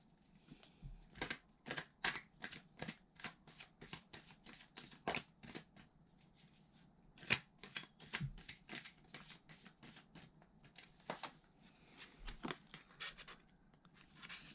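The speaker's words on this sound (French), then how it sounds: "Je crois que je vais prendre d'autres cartes" Tarot cards being handled and drawn from a deck, soft papery flicks, slides and taps in irregular clusters, quiet and close, with no voices heard.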